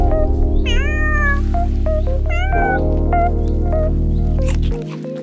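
Several cats meow in a series of rising, drawn-out calls over a steady low drone, fairly close and loud, with no talking.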